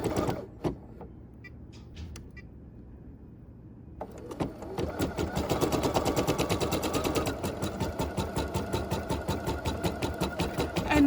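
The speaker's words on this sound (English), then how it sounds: "So now we're going to just press the button and start sewing." An embroidery sewing machine starts up after about four seconds of quiet room noise, then stitches steadily with a fast, even mechanical chatter that grows louder and continues to the end.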